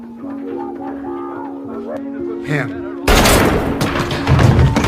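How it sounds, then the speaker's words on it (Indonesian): After a stretch of tonal voices and music, a sudden loud pistol shot fired into a wall erupts, followed by a rattling burst of further shots and noise. "tidak sengaja menembakkan pistol tersebut ke arah dinding"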